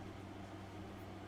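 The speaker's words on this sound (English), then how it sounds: "if you hear the noise in the background, that'd be my air conditioner" A room air conditioner hums steadily in a hot, humid hobby workspace, a faint, even drone with a low tonal buzz and no voices or other sounds.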